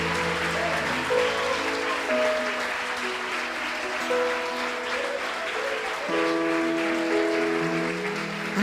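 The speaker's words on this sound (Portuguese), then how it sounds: "Louve a Deus com as suas palmas" A church congregation claps hands in praise during a Portuguese-language worship service, steady dense clapping sustained throughout over sustained music.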